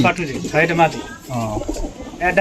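Soft, throaty coos from a five- or six-year-old female pigeon repeat close by in low rolling phrases, with a voice speaking in between.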